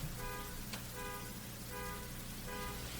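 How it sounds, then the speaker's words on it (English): A car alarm outside a window sounds a repeating pulsed electronic tone in regular bursts, muffled and fairly distant, over a constant low room hum. "I'm guessing it's a car alarm outside the window."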